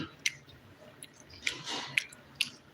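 Someone eats a dinner of fish curry, with soft, moist chewing and a handful of small clicks and squishes up close at an irregular pace.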